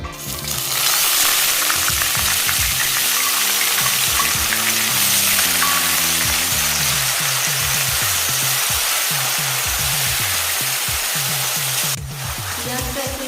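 Onion paste hitting hot oil for a Kolkata-style chicken curry: a loud, sustained frying crackle right after an abrupt start, steady and close, with a low rhythmic rumble underneath and no speech.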